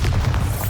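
A Bombarda spell explosion in Hogwarts Legacy: a brief, loud, deep boom with a rumbling low end that fills the whole moment.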